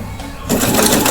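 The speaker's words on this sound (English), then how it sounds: "My sewing machine, don't be trying to act up in front of people just because we got company" Home sewing machine stitching a DIY pillow, a loud close mechanical whir that kicks up sharply halfway through and runs on at speed.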